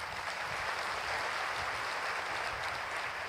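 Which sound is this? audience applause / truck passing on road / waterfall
audience applause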